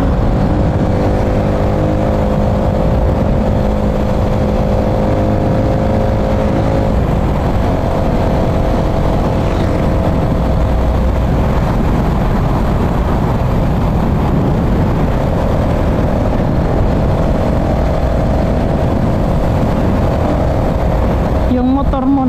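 Suzuki Raider motorcycle with a carburetor, its engine running loud and close with steady droning revs that shift in pitch throughout, while people talk over it.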